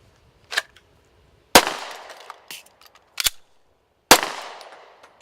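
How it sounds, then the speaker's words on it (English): A pistol being reloaded in an emergency reload using the slide catch lever: several sharp metallic clacks and snaps spaced a second or so apart, close and distinct against near silence. "So that's the emergency reload using the slide catch lever."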